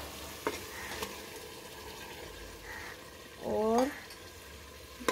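Masoor dal frying with spices in a pan, a faint low sizzle under quiet scraping stirs, with a brief spoken word in Hindi near the start.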